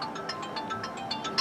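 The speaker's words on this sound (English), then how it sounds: "Let me shut this phone off here." A phone gives off a faint, repeating electronic ringtone, a steady run of short beeping pulses under low background noise in a garage.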